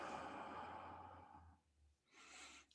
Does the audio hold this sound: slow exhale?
yes